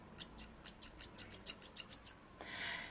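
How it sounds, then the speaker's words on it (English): Sharp professional hair shears snip about ten times in quick, regular succession, crisp and close, followed by a brief soft rustle. "I really love this scissors. As you can hear, it's really sharp."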